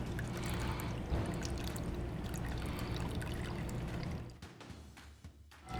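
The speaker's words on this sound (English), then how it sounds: "And pour, or fill the martini glass up." An Akron Apple cocktail pours from a shaker into a martini glass in a steady continuous stream that ends abruptly with a few last drips.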